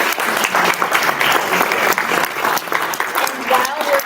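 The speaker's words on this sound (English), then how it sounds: "Would you please just clap for Kathie?" An audience claps steadily for a speaker at an event, dense applause filling the room at close range with some voices mixed in, and a little musical tone creeps in near the end.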